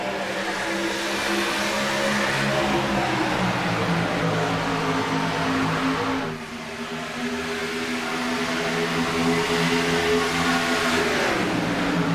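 NASCAR race cars roar through the restart zone at Atlanta, a loud sustained engine drone with rising and falling tones of several cars accelerating together, briefly dipping midway before swelling again.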